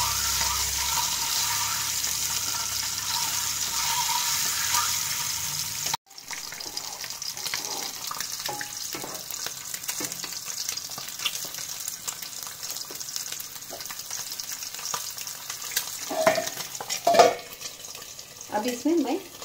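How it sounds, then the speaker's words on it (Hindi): Eggs frying lightly in oil in a pan for egg biryani: a steady broadband sizzle that settles after a brief break, with stirring scrapes and a couple of sharp utensil clinks near the end. "इन अंडों को थोड़ा सा हम तल लेंगे, ज्यादा नहीं थोड़ा सा।"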